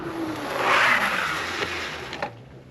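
A budget e-bike's mechanical disc brakes (Heybike Mars 2.0) bite hard, giving a rising hiss and scraping squeal that peaks early and fades within about two seconds, close and alone.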